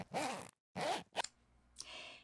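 Zipper being pulled open: two quick, close rasping zips in succession, then a short click and a softer trailing zip, crisp and isolated with no talking.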